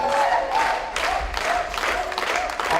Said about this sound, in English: Taps, taps, claps, claps, snap, snap.